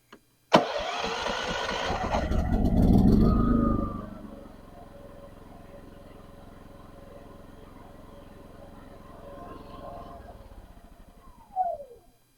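A sub-$1000 portable generator starts with one push, roars loudly for a couple of seconds, then settles into a steady low idle hum that continues alone, with a brief faint sound near the end.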